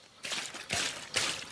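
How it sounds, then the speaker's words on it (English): Water sloshes inside a drinking bottle in three short rhythmic bursts outdoors, close and fairly soft, with nothing else heard. "my water bottle makes a good rhythm."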